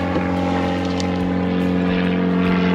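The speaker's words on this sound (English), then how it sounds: "Planes are going over again." Propeller airplanes drone overhead above a fishing lake, a steady, loud low hum with strong sustained tones that persists throughout without a break.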